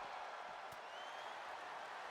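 A crowd roars in a WWE 2K23 wrestling match, a dense and steady wash of cheering that fills the arena without letting up.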